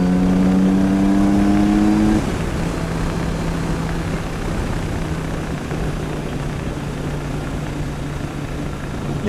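A 2020 Kawasaki Z900RS motorcycle engine revs high, then the pitch drops sharply at a gear change into a steady lower drone that carries on evenly, loud and close with wind noise behind.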